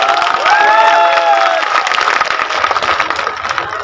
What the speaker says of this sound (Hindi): आदरणीय डॉक्टर साहब, एक बार जोरदार तालियों से फिर से स्वागत करें।